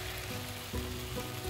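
Onion with a little salt sizzling in a pan on a home kitchen stove, a steady, even frying hiss with a soft bump midway, close and moderately quiet with no talk.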